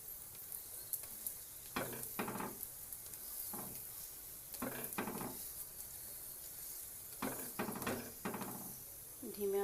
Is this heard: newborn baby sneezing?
no